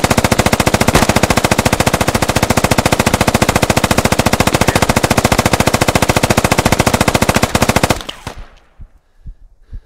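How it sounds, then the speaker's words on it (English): Sustained rapid automatic gunfire rattles loudly for about eight seconds, then cuts off, leaving a few faint scattered shots and quiet. "Rip Vox went out in a blaze of gunfire."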